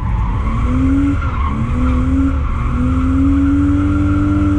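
Tires squeal in long, loud, wavering skids as a car drifts under handbrake and throttle, the engine droning underneath throughout, no voices.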